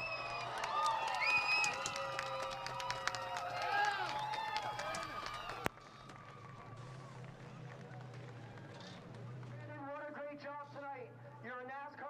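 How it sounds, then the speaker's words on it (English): Race fans at Delaware Speedway applaud and cheer a winner after a 2022 NASCAR Pinty's Series race. The clapping crowd is mixed with talking, then cuts off abruptly halfway into quieter speech. "How about a round of applause for Brandon Watson?"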